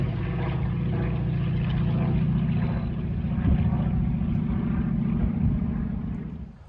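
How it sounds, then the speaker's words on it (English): A World War II fighter plane with a reciprocating piston engine drones steadily overhead, a loud, low, even rumble that holds for several seconds and then fades slightly. "World War II fighter just flew over"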